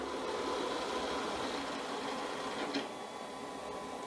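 A Shark AV2501AE robot vacuum hums steadily at close range as it maneuvers back toward its dock, a continuous motor drone with a brief small bump near the end.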